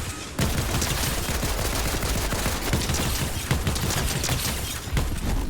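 Rapid bursts of gunfire from a video game, dense and loud, with shots crackling almost continuously for several seconds and no voices over them.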